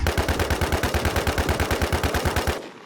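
Rapid automatic rifle fire from the WarZ Siam MMO game, an M16 A4 among the weapons, rattles in a steady loud burst of about twenty evenly spaced shots, then cuts off abruptly.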